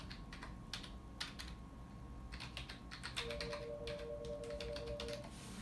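A phone number being entered on a computer keyboard gives quick, light key clicks in irregular bursts, close but quiet, with a faint steady electronic hum underneath and no voices.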